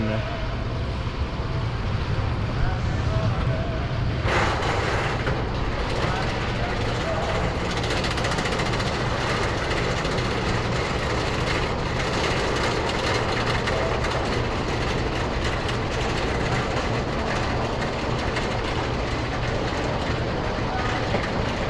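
A continuous loud roar of an empty roller coaster train rolling along its track on a cold November day at Busch Gardens Tampa, with rumbling and clattering that stays steady throughout.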